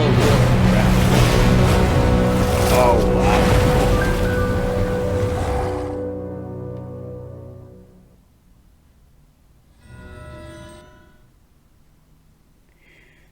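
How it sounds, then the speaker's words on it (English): Loud rushing water and crashing waves surge in Genshin Impact, a heavy roar that fades out after several seconds, followed by a brief softer swell; a voice exclaims briefly. "That's a lot of water."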